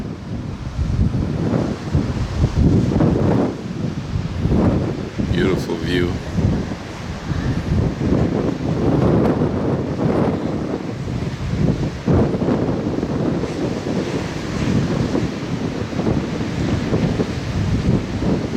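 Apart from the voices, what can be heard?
wind by the ocean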